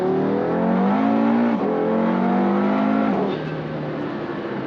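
An Audi TT RS, said to make 800 horsepower, accelerating hard: a loud, close engine roar with rising pitch through the gears, a brief shift dip, then a lower steadier drone.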